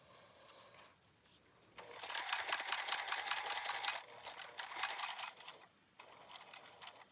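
A sewing machine stitches a travel organizer around a curve, with a steady rapid mechanical ticking run of about four seconds that starts and stops between quieter pauses. No one speaks.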